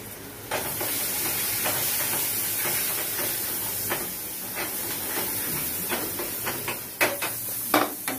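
Onion, garlic and tomato frying in a home-kitchen pan with turmeric and homemade red masala, giving a steady close hiss and sizzle broken by sharper crackles and spatters, with no voices.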